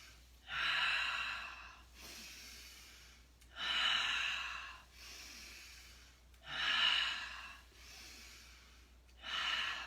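Slow, deep breaths during a hatha yoga practice: four long airy inhale-exhale swells, evenly spaced and close, with quiet pauses between them.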